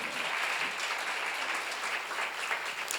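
A church congregation at a seminar claps together in a dense, steady burst of applause that fills the room, loud and continuous with no speech over it.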